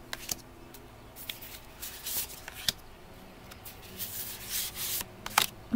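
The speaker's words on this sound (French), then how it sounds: "je vais faire un petit tirage en croix" Tarot cards are shuffled and drawn for a cross spread, close and soft, with continuous rubbing and sliding of card stock, occasional sharper flicks and taps, and no speech.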